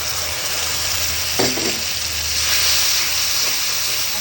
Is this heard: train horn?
no